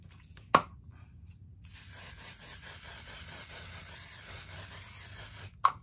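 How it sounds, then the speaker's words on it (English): A short click, then a steady soft hiss of setting spray lasting several seconds, followed by another click; close and fairly quiet. "I'm gonna go ahead and spray."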